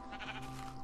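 Sheep bleating in Minecraft, one short wavering bleat heard up close and fairly loud against a steady background, under one second long.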